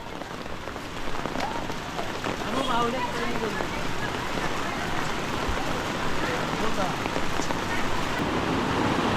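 Heavy monsoon rain in Konkan pouring onto surfaces, a dense continuous hiss and patter with gusty wind noise, loud and unbroken throughout.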